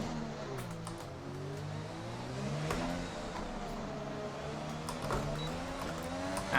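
An F1 car engine revs in F1 2020 on the Monaco street circuit, its pitch climbing and falling through repeated gear changes, with sharp clicks and pops spread across a steady mid-level drone.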